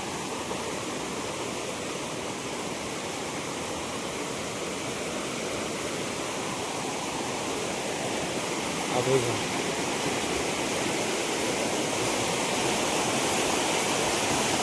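Steady rushing water flows continuously under a bridge, a loud broad wash of noise with a brief knock partway through.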